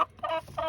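A broody hen gives a few short, low clucking calls up close, three quick grunting pulses with brief gaps between them and no voices.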